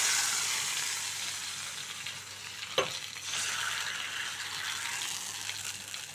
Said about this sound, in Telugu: తాలింపు వేగిపోయింది. ఇప్పుడు నేను దీనిలో వేసేస్తున్నాను తాలింపు.